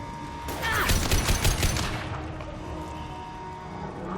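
A burst of rapid gunshots from a weapon in Mass Effect 2, a quick string of sharp cracks for about a second and a half, then a fading echo and quiet hum.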